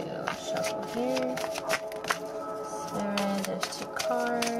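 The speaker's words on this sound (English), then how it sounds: "we're going to shuffle here." Oracle cards from a spellcasting deck being shuffled by hand, a quick run of crisp riffling and flicking bursts close up, with faint tonal hum beneath and no clear talk over the shuffle.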